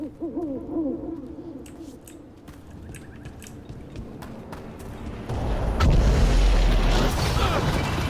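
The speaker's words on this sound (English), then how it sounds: "Another owl." An owl in the video game Dragon Age: The Veilguard gives warbling hoots at the start, followed by clicking and rustling, then a loud rumbling roar of ambient game sound takes over in the final seconds.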